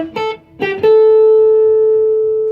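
A plain guitar lick with no bends or vibrato, two short picked notes followed by a long, steady sustained note that rings out evenly and slowly fades, heard alone.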